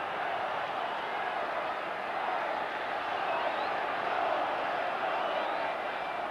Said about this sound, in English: you really can hear the crowd roaring now, urging Wednesday on